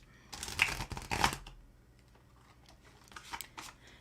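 A fairly new deck of playing cards being shuffled by hand, with two quick riffling bursts close up early on, then softer scattered card rustles and taps trailing off.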